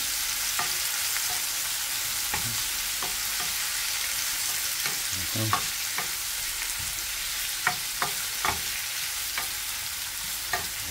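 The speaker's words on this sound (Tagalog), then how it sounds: "Pag nagisa na, igisa lang ng itong calamares." Calamares sautéing in a pan, a continuous bright sizzle with scattered sharp ladle scrapes and taps at irregular intervals, close and steady, no voices.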